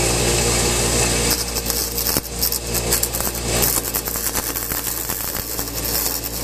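A power tool grinding down a snowblower shear pin, a loud, continuous motor whine with harsh grinding texture that shifts slightly as the pin is pressed, close by with no talk.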